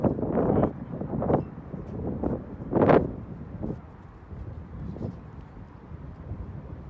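Gusty wind buffets the microphone in uneven rumbling bursts, with a few stronger gusts, then a quieter stretch.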